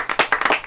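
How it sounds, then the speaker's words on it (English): Studio audience on a live AM radio morning show bursts into applause, a short run of quick, dense hand claps filling the moment without any voices. "A round of applause."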